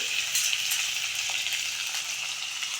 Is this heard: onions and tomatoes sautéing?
yes